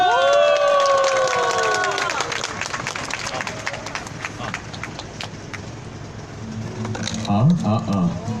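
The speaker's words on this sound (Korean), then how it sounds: "박수!" A crowd at the weekly Wednesday protest over Japanese military sexual slavery breaks into sustained applause and cheering that rolls on for several seconds, after a raised voice opens it. Talk returns as the clapping fades.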